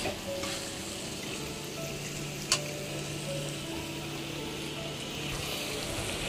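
A spoon stirs food frying in a pan as the heat is raised and the water cooks off, a continuous close sizzle with one brief scrape partway through.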